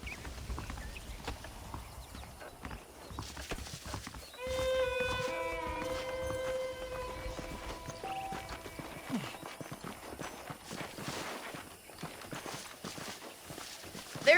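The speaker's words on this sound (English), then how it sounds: "The horses are saddled up over here." Horses trotting with steady hoof clip-clop in the Red Dead Redemption video game, moderate and continuous beneath ambient game sounds, with a sustained musical tone swelling partway through.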